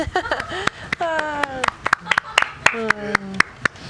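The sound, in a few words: audience clapping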